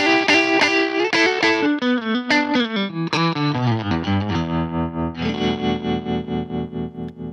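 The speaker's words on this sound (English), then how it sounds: "This is a brown panel amp from the early 60s that includes a tube bias tremolo." An electric guitar plays a run of notes through an early-1960s brown panel amp, then a held chord pulses steadily with a tube bias tremolo wobble.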